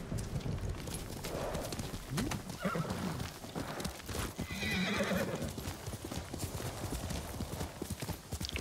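Horse galloping and neighing in the video game Ghost of Tsushima, with steady hoofbeats running under a loud whinny near the middle, all set against dense in-game ambience.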